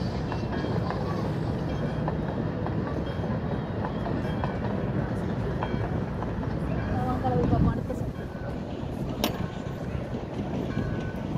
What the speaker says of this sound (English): see the train is going.